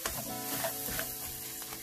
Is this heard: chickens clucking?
no